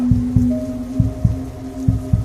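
A heavy, booming heartbeat thumps in pairs, lub-dub repeated three times at a steady tense pace over a low droning tone, close and loud, as a sound effect in a Hindi horror story about driving down a deserted road.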